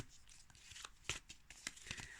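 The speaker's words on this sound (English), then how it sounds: "as you can see, I'm just shuffling the cards." Quick riffling and tapping of playing cards being shuffled close up, a series of soft papery flicks and snaps.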